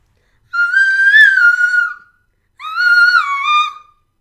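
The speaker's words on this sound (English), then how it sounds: "See if I have whistle notes today." A singer's whistle-register notes form two high, pure sustained tones, each lasting about a second and a half, with a slight waver, loud and close against silence.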